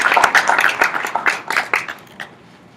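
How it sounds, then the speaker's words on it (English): An audience at a youth conference session claps in steady applause that fades away over a few seconds. "Please, a round of applause."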